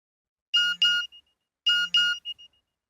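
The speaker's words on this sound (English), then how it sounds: "My mobile phone beeped." Two identical electronic alert chimes, each a pair of bright tones followed by short fading blips, ringing clearly in an otherwise silent background.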